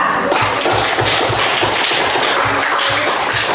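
Students in a classroom clap for a presenting group, a loud burst of many hands with a quick, roughly rhythmic pulse running steadily throughout.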